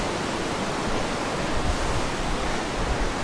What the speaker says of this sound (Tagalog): Nasa malapit po sila sa ilog dito.